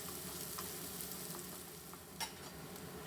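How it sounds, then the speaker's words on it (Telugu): Onions fry in hot oil with cumin and fennel seeds for palak paneer, giving a steady close sizzle with faint stirring scrapes and one brief clink, and no voices. "ఇప్పుడు ఇలా వేగిన తర్వాత ఈ ఆనియన్స్ కూడా వేసేసి బాగా మంచి కలర్ వచ్చే వరకు ఆనియన్స్ ఫ్రై చేసుకుందాము."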